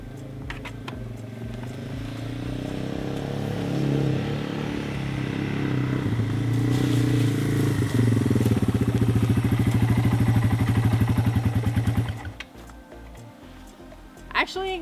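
A motorcycle engine runs close by with a steady rumble that swells into a stronger, pulsing throb before cutting out abruptly near the end.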